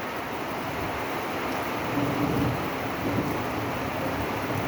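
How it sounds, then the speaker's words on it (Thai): Steady heavy rain pours down with a low rumble of thunder rolling underneath, constant and enveloping with no voices. "ฝนตกขึ้นพายุเข้าเนาะ"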